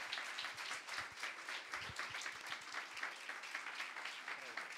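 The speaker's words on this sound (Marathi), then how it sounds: "टाळ्या वाजवून त्याची स्तुती करूया" A church congregation claps together in praise, giving a sustained, fairly faint burst of applause with a steady rhythm from start to finish.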